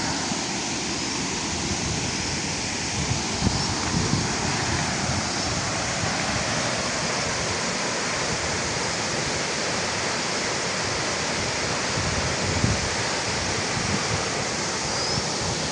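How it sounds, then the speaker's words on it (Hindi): Sajji Kot waterfall pours cold spray in a steady, full roar of rushing water, close and loud throughout with no talking over it. "ये वाटरफॉल देखिए, ठंडे पानी की फुहार।"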